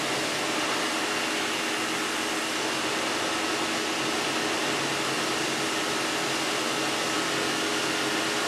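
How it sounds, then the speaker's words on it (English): A pressure washer runs in the next room, a dense, unbroken broadband hiss and motor drone held at a steady level throughout, with no voices. "That's my dad... pressure washing in the next room."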